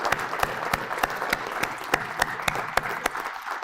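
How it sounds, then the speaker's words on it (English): Applause from an audience at a live-streamed awards event, a steady wash of many hands clapping with a few sharper individual claps standing out, fairly close and filling the room without talk. "So please, nice round of applause for everybody"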